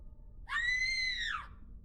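A single drawn-out high scream, a horror sound effect that swells and fades over about a second, heard alone over a low murky background.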